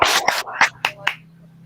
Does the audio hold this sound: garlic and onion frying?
no